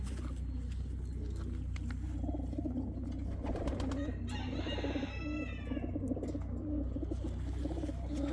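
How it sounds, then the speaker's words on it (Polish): A racing pigeon coos softly in low repeated throaty notes over a steady background hum, with faint bird calls and rustling around it. "Can you show the wing of this pigeon?"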